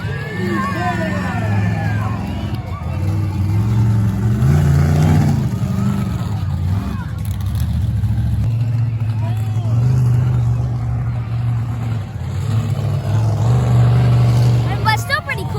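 Monster truck engine droning and revving at a monster truck show, a loud continuous roar rising and falling over crowd hubbub and talk.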